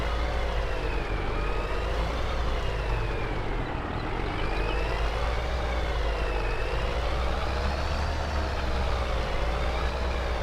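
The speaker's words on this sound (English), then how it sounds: "As I mentioned, this truck really does not accelerate too much." A heavy truck engine in Farming Simulator 22 drones loudly and close, its pitch climbing slowly then dropping with each gear change in a repeated rise-and-fall pattern through many gears, with no talking.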